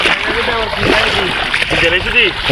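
Splashing and sloshing in a flooded crop field in a rural village as someone wades into the water, close and fairly loud, with people talking over it throughout.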